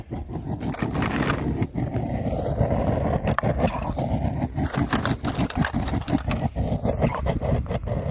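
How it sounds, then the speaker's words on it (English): A loud, continuous roaring rumble with crackling and sharp pops throughout, as leftover liquid inside cans violently boils off in a forge furnace close by. "That's the sound of any remaining liquid inside the cans just getting torched"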